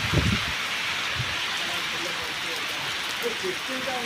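Heavy rain pours steadily during a sudden pre-monsoon Kalbaisakhi storm with wind, a dense broadband hiss of water on surfaces that runs continuously and close throughout, with a brief low rumble near the start.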